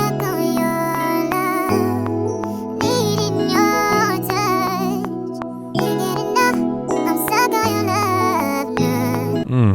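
A pitched-up, chopped vocal sample plays in an R&B beat, with bright stuttering vocal fragments over sustained chords and a low bassline, loud and continuous with no talking.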